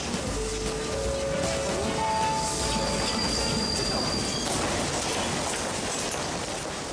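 A Japanese subway train rumbles in a steady, dense roar, with a few faint tonal squeals or whines above the running noise for the first few seconds, and no voices.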